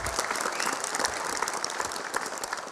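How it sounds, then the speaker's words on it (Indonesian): An audience at a stand-up comedy roast bursts into dense, continuous applause, a bright crackle of many hands clapping at once throughout with no clear pauses. "Tepuk tangan dulu buat Bapak Sutioso."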